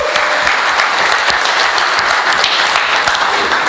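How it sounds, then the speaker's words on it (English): Dense, steady applause from a conference audience at a developer talk, loud and sustained throughout with no voices standing out. "give yourself an applause"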